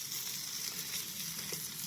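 Fish fries in a pan with a faint, steady hiss and soft crackle, heard close but at low volume with no voices.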